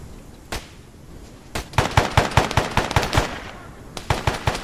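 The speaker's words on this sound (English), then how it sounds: "A lot of them using pistols." Rapid bursts of gunfire in the military video game ARMA 3, a lone shot followed by a fast, evenly spaced string of loud reports, a brief pause, then a shorter volley, with no talking.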